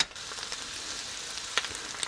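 Garlic and paprika powder fry in a Dutch oven with a steady, close sizzle, and a few brief stirring clicks and scrapes break through it.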